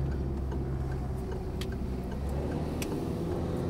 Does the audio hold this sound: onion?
no